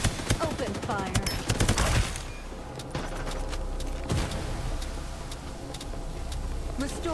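Gunfire in a shooter video game, with dense rapid bursts and shots in the first two seconds, then sparser scattered shots over a steady background bed of game sound and music; a voice speaks over it.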